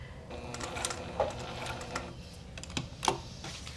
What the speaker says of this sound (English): I'm just going to stitch right up to the middle point